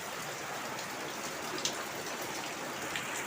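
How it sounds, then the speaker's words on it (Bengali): Heavy rain pouring down outside near a kitchen, a dense, even wash of falling drops with scattered sharper splashes, steady throughout and fairly close. "তারপরে দেখো আবার এই কত জোরে বৃষ্টি নেমেছে"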